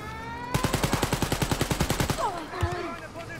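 Rapid automatic turret fire in the video game Wolfenstein: Youngblood, a steady burst of about twenty evenly spaced loud shots lasting roughly one and a half seconds, followed by scattered game effects.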